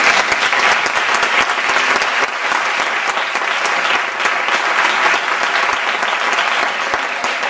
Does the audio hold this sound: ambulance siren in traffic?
no